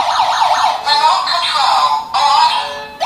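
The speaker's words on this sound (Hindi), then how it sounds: "ये काफ़ी हैवी सायरन आप इसके साथ चाहो तो कनेक्ट कर सकते हो।" A loud, close siren from a home security alarm system wails in repeated rising and falling sweeps, cutting off briefly between cycles.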